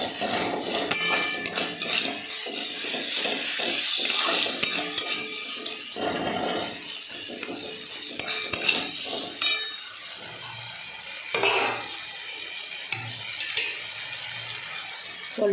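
Tomato frying in a pan with ginger, garlic and onion, stirred with a utensil that clatters and scrapes against the metal. Repeated knocks and clinks sit over a faint, steady sizzle, with no talking.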